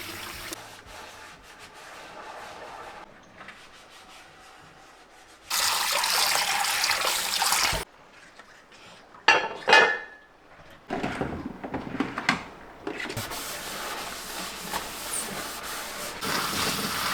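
Running water from a kitchen tap gushes in several bursts while dishes are washed by gloved hands, the flow starting and stopping with clinks and splashes in between.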